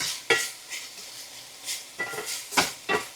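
Green beans and sweet strawberry onion frying in a pan, a soft hiss punctuated by roughly five distinct spatula scrapes at irregular intervals, nearby and without speech.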